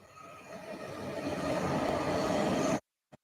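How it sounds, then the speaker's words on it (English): A train passes close by, a loud, steady broadband rumble and roar that builds over a few seconds and then cuts off abruptly. "sorry, train going by."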